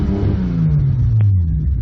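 A JDM Toyota Supra engine revs hard against its rev limiter, a loud, close, rising mid-pitched roar that climbs and holds for under two seconds.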